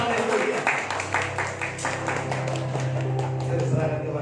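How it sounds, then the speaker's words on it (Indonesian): A church congregation at a Sunday family service claps hands together, a dense, fairly steady patter of many hands that carries on under a voice and low background hum. "jadi tepuk tanganlah buat diri kita masing-masing"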